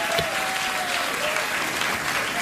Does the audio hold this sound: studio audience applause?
yes